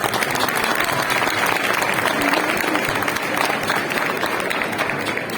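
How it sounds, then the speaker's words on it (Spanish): A crowd applauding a winning bidder at an auction of prize Gamoneu cheeses, loud and sustained clapping that fills the room for several seconds. "Un aplauso para Aramburu, hombre."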